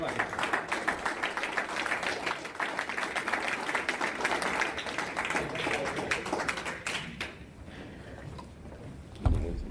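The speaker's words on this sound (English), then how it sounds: "he deserves all of your applause right now" Sustained applause from a meeting audience, dense clapping that thins and fades toward the end, with a single louder bump just before it stops.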